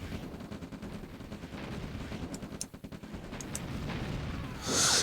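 Artillery fire in a Red Alert match: a dense, continuous rumble of rapid low booms and shots that builds steadily, ending in a louder, sharper burst.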